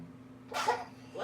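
A short, sharp sneeze bursts out in the middle of a quiet indoor moment, close by and fairly loud, with a faint voice starting at the end.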